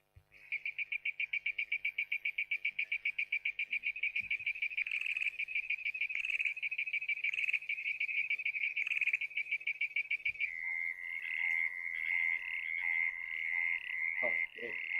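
Frogs croak in a rapid, evenly pulsed chorus, loud and continuous throughout, with the rhythm shifting to a smoother, buzzier call near the end and a few faint knocks in the background.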